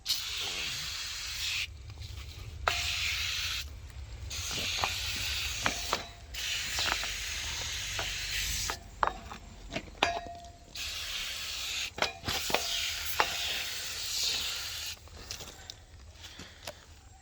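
Cleaner is sprayed in repeated bursts onto a John Deere 450-B dozer, each a hissing spray lasting a second or two, separated by short pauses and mixed with small clicks and handling noises.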